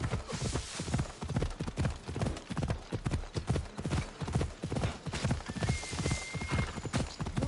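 A horse gallops in Assassin's Creed Odyssey, its hooves pounding in a fast, even rhythm close and loud, with a short whinny and faint background sound.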